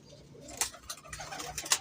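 A female pigeon coos softly in short bursts, with a few sharper clicks and rustles between the low calls, close by and otherwise quiet.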